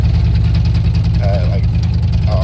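A 1997 Dodge Ram truck engine while driving, on its first drive in a year, gives a steady low rumbling drone throughout, close and loud, with faint brief whistling tones near the end.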